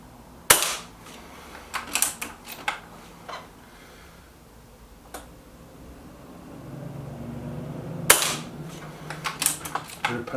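A Gamo Venari air rifle shooting light 13-grain JSB Match Diablo RS pellets gives sharp, close cracks, a few in quick bursts, with a quiet lull and softer clicks between shots.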